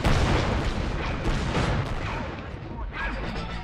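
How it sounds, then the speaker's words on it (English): A barrage of deep, rumbling airstrike explosions in the video game Men of War: Assault Squad 2, heavy booms piling on one another during a battle over an imperial outpost, with someone speaking over them. "Airstrike time."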